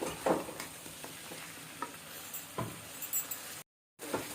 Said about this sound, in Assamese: এইখিনি মাংস ফ্ৰাই কৰি হৈ গ'ল।